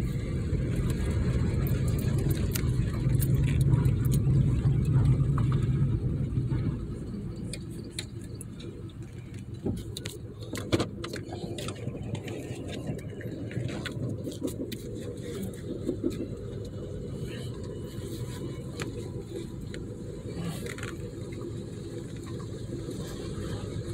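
A 2000 Pontiac Sunfire engine with a newly fitted starter idles steadily at close range, a low continuous hum with light ticking, louder at first and then settling to an even level, with brief speech over it.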